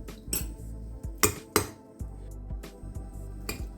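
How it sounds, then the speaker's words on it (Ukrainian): Avocado and cream cheese mashed with a fork in a bowl, heard as a series of sharp metallic clinks and taps against the dish, irregular and close, with no talking. "І виделочкою усе добре переминаємо."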